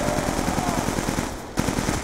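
Rapid automatic gunfire from Black Ops 2 zombies mode rattles in quick, even bursts, loud and close, with a brief gap near the middle before firing resumes.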